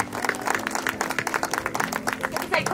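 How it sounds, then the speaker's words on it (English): A church-hall crowd gives applause for Cole, a dog trained in German, after his performance: steady rapid clapping lasting throughout, fairly close, with a voice speaking briefly over it. "All right, let's give Cole a round of applause"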